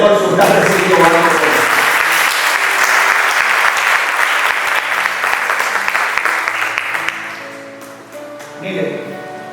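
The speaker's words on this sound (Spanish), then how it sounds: "Dale un aplauso al Señor" A church congregation breaks into loud, dense applause that holds steady and then fades, with sustained keyboard tones underneath and a voice returning at the end.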